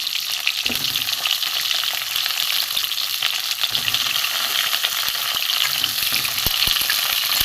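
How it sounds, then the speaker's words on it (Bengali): Pointed gourd pieces frying in mustard oil in a wok, sizzling steadily and spluttering from water in the oil, with sharp pops and crackles throughout, close and fairly loud, no talk. "পটলগুলো আমি ভেজে নেব জল আছে বলে একটু ছিটাচ্ছে"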